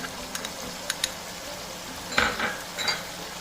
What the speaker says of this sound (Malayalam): ഇഞ്ചി വെളുത്തുള്ളി നന്നായിട്ട് വഴറ്റിയെടുക്കും